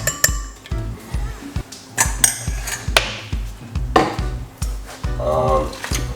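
Spoon stirring honey into a ginger drink in a cup, giving a run of quick repeated clinks and taps against the glass, fairly close and clear with no talking.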